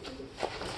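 A racing pigeon coos once, a soft low note close by, over a continuous background hiss of loft noise.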